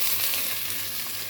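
Onions, curry leaves and drumstick pieces sizzle in a hot oil tempering, producing a loud, close, continuous crackling hiss with no voices.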